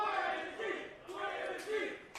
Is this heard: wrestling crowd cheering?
yes